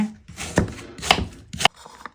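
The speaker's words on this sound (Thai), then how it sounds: "แล้วเราจะเอาบริเวณที่เป็น เนื้อแบบนี้ มาหั่นให้เป็นชิ้นเล็กๆนะคะ" A knife chops peeled apple flesh into small pieces for a flourless honey apple cake: three sharp, close chopping strokes with quieter scraping between them.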